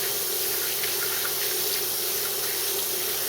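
Tap water runs steadily over soapy hands being rinsed at a kitchen sink, a soft continuous hiss with no voices.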